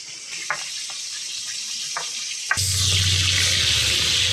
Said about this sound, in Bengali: সব মাছ একসাথে ভেজে নেব।